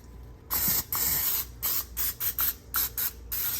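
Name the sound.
spraying olive oil onto glass pan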